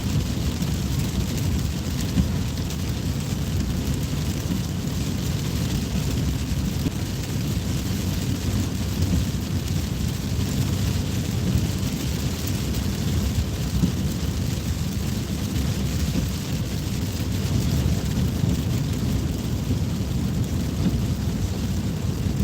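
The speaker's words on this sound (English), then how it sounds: "it looks like the rain is going to follow me down" Steady outdoor rain with thunder rumbling through it: a continuous broadband wash of downpour and low, rolling thunder that stays loud and even throughout, with no voices.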